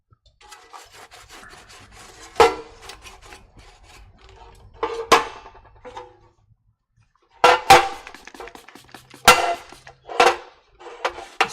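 A microfiber towel dampened with isopropyl alcohol wipes across a metal catch can before TIG welding, producing several sharp, close rubbing swipes in irregular bursts separated by quiet gaps, with no talking.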